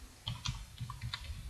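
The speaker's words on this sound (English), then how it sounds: "So I'm going to type" Soft, quiet tapping of keys on a computer keyboard, a few light irregular clicks in quick succession with no voice.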